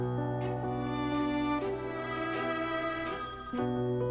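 A mobile phone plays a melodic ringtone in a home, a repeating sequence of bright sustained tones that stays loud and continuous with no talking over it.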